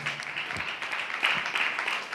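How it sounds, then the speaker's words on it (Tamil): Congregation clapping at a Tamil church service, a dense, steady patter of many hands lasting a couple of seconds at moderate volume, with no voices over it. "ஹல்லேலூயா, நல்ல கைத்தட்டுங்களேன்."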